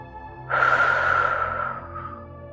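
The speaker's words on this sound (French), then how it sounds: "éventuellement prendre une bonne respiration" A single deep breath drawn in during a hypnosis session, a long, close airy inhalation lasting over a second, then easing off, with no talking.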